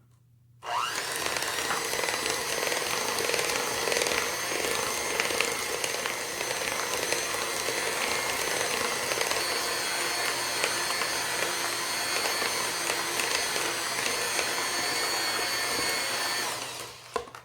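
An electric mixer whisks lactation cookie batter with vanilla in a bowl, a steady high-pitched motor whir that runs continuously and loudly for about sixteen seconds before stopping.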